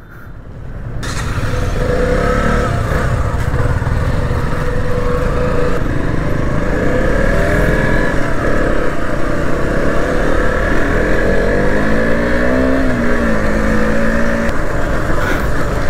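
A KTM Duke motorcycle's engine runs loud and close throughout a ride, a steady roar with rising and falling pitch as the throttle changes.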